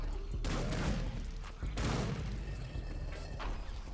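Rapid gunfire from the Serious Sam 2 video game, a loud, dense barrage of shots with booming bursts that runs continuously under the game's other noise.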